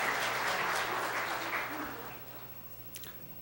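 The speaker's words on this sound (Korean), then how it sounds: "격려의 박수 부탁드리겠습니다." Members of a church congregation applaud together, a soft, distant patter of clapping that fades away within a couple of seconds, leaving near silence with a faint click.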